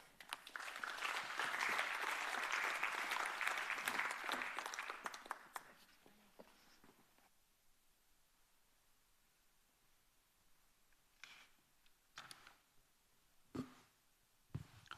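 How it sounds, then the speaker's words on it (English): Conference audience applauds steadily for several seconds, the clapping then fading out, followed by a few scattered coughs and small sounds in a quiet hall. "May I have your applause"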